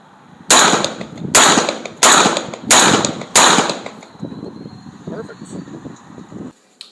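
Derya MK10 shotgun firing a five-round magazine, five sharp loud blasts in quick, evenly spaced succession, each followed by a short ringing decay, then a quieter stretch with low voices.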